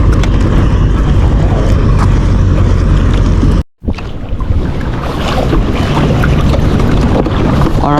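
Wind buffets a fishing boat on the Potomac River, a loud, continuous rumble of gusts hitting the microphone, broken by a brief drop near the middle.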